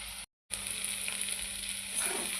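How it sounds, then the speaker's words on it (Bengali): Fried shrimp go into a pan of cooking taro stolons and are stirred through. A soft, steady sizzle starts after a brief silent gap and grows slightly rougher near the end. "এবার ভেজে রাখা চিংড়ি মাছটা দিয়ে দিলাম, দিয়ে আর একটু নাড়িয়ে নেব।"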